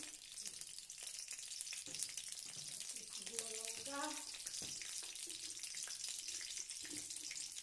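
Five-spice and mustard seeds tempering in hot oil, a bright continuous hiss and sizzle with a few faint tonal clinks near the middle, steady and close, no voices.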